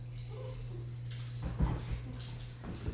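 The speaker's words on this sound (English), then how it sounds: "My daughter just got home and my dog was greeting her." A pet dog whimpers and whines softly while greeting someone who has just come home, with faint, brief yips over a steady low hum, no talking.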